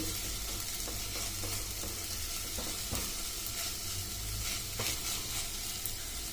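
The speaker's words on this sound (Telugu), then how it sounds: "సాబ్దాన్ కూడా వేగిపోయింది" Sago pearls roasting dry in a non-stick kadai, giving a steady close sizzle and gritty stirring rustle with occasional soft scrapes throughout, no voices.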